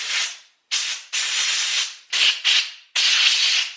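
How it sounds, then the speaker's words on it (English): Short hissing bursts of compressed air blown through the carburetor of a 20-year-old Polaris Pro-X 120 mini snowmobile, six loud close blasts in quick succession with brief pauses between them. "The carb cleaner wasn't enough to power that through, so maybe the compressed air can get it."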